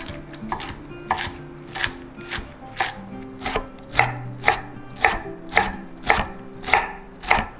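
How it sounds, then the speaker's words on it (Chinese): Cabbage being finely chopped with a knife on a cutting board, a steady series of sharp, close knocks at an even, brisk rhythm, about twelve strokes. "高丽菜切成细碎状"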